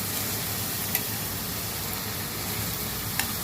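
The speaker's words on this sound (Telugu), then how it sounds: "కొద్దిగా సాల్ట్ వేస్తున్నాను, ఉల్లిపాయలు కొంచెం వేగడానికి." Onions with a pinch of salt fry in a pan, a steady close hiss of sizzling oil with a couple of faint clicks and no voices.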